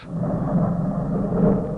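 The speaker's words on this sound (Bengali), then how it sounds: "এ কি বজ্রপাত হচ্ছে না?" A deep, continuous rumble of thunder in an audio drama, rolling steadily with no other sounds over it.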